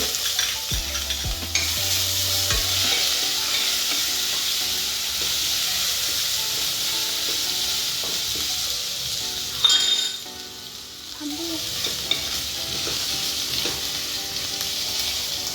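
Cumin seeds and asafoetida sizzle in hot oil for a whole moong curry, a steady close frying hiss with occasional stirring and light utensil clinks, no talking.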